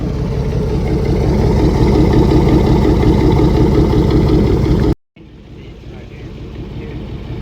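A 1999 Chevy Tahoe V8 with no catalytic converters rumbles loud and close for about five seconds, then cuts abruptly to near silence before a lower, quieter engine drone resumes.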